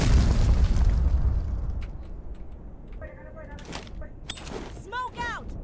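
A grenade blast in a tactical shooter game, a loud close boom with a rumbling tail that fades over a couple of seconds, followed by softer clicks and game effects while voices talk.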